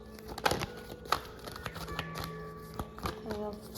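Tarot cards being shuffled vigorously, with several sharp riffling bursts and slaps over a faint steady background.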